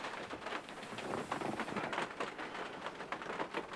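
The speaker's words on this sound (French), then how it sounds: "Et tu l'entends d'ailleurs. Il pleut." Steady rain pattering down continuously on a camper van at Noirmoutier, France, close and fairly loud, with no voices over it.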